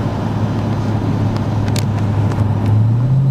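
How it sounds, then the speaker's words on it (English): A BMW 650i Coupé V8 drones in a loud, steady low hum while driving, its pitch climbing slightly as the revs rise at the end. "Just listen to the sound of that motor."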